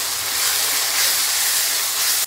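Ginger-garlic paste and masala sizzle and fry in a pan for gobi dal, a steady loud broadband hiss that runs unbroken for about two seconds and then drops off abruptly near the end.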